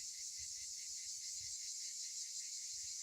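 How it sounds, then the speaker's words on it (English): A steady, high-pitched buzzing drone of cicadas in a fruit tree food forest garden, continuous and pulsing slightly, with faint low rumbles underneath. "I'm sure you can hear all the cicadas everywhere."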